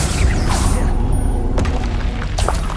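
The Bombarda spell explodes in Hogwarts Legacy with a loud, dense booming blast and crashing impacts over a constant roar, followed by short sharp cracks.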